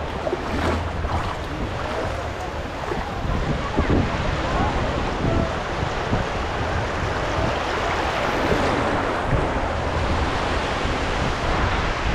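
Steady rush of ocean waves crashing and churning nearby at the Digha estuary, with wind noise rumbling over the microphone throughout.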